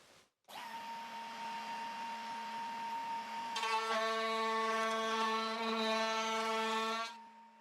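A DIY router table with a metal top runs a molding bit: a loud steady motor whine starts, then its pitch and load shift as the bit cuts into wood, before the sound cuts off.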